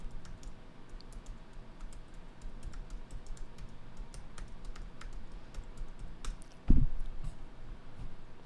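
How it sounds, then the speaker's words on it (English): Keys clatter on a computer keyboard in a quick, light, steady patter of close clicks, ending with a louder thump near the end. "I'm typing here."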